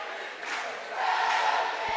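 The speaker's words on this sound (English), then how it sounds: "this is a huge crowd in here" A large crowd of basketball fans at a Saturday Class 4A girls' area championship game, Broken Bow Lady Savages against Harrah, fills the gym with a steady roar that swells toward the end.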